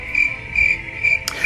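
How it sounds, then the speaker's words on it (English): Cricket chirps come in three short, regular bursts over a faint background hum, bright and fairly close, followed by a brief sharp hiss at the end. "cricket, chirp, chirp. And I might actually insert that sound in there."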